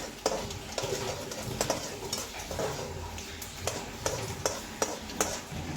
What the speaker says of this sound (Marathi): शेंगदाणे छानसे करपूस भाजून घेऊयात